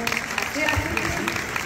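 Welcoming applause at a Cantagiro singing contest in Belvedere Ostrense as a contestant walks on stage, a steady patter of clapping from the audience with voices talking over it.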